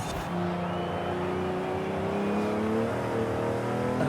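A vintage 1962 Ferrari 250 GT V12 engine in a racing video game rumbles continuously with a steady mid-pitched growl, revving slightly up and down.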